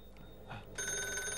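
A telephone bell rings in a dubbed Iranian TV serial scene, starting after a brief quiet stretch and continuing steadily as a bright, sustained electronic ring at moderate level.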